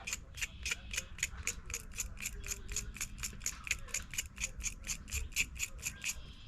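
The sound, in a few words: scraping the end of a fig cutting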